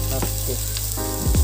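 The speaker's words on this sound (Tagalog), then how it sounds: "and stir it well gradually." Rice pilaf frying in a pan, stirred steadily with a utensil, gives a continuous close sizzle with scraping strokes near the end; no voices are heard.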